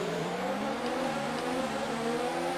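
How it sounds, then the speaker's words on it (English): Formula 1 cars on the grid at Baku in the video game F1 2019 hold high, steady engine revs before the start, a loud, continuous whine with layered engine tones and no speech. "Let's build up the revs and get ready for the 5 red lines here at Baku."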